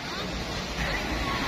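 Sea waves washing onto a beach, a steady broadband surf roar with a swell in the second half, mixed with wind buffeting the microphone and no speech.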